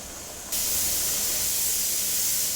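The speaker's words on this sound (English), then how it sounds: "We are constantly producing steam here." Steam vents from a pressure canner processing green beans: after a moment of quieter hiss, a loud, steady jet of steam rushes out and continues without a break.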